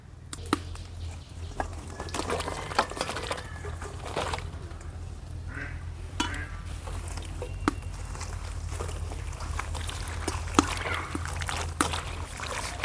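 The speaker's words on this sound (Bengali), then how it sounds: "শাকগুলো বারবার জল পাল্টে ভালো করে ধুয়ে নেব" Chopped pumpkin greens washed by hand in a basin, with the water changed repeatedly: soft, continuous sloshing and splashing with occasional sharper drips and clicks, close by and fairly quiet.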